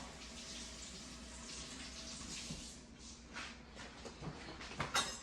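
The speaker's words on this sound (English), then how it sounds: "I'm gonna rinse this onion off" Tap water runs steadily into a kitchen sink while an onion is rinsed under it, with a soft continuous gush and a few splashy spikes near the end.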